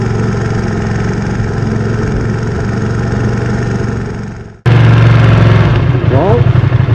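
A Ducati Streetfighter V2 motorcycle with a newly installed battery, in a backyard, cranks and catches. Its loud, close engine note dips briefly, then bursts into a steady, throbbing idle with no talking.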